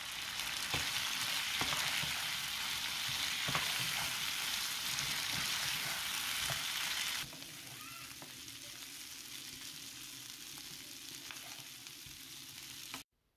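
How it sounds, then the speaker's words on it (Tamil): Beef roasting in ghee and oil in a pan for Arabian Bukhari rice, a loud continuous sizzle that drops to a quieter, steady frying hiss halfway through, with occasional light stirring clicks and no voices. "ஆயில் எட் பண்ணதுக்கப்புறமா இந்த பீஃப் அப்படியே எட் பண்ணிவிட்டு இதை கொஞ்சம் லைட் ரோஸ்ட் தான் பண்ணி எடுக்கணும்"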